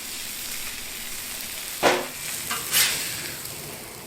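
Butter sizzles and fries on a Blackstone griddle alongside steak, a steady crackle with a couple of louder bursts as it hits the hot surface, close and without talk.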